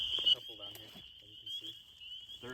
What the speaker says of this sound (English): So it seemed that these peepers were mostly male frogs that were calling for a mate.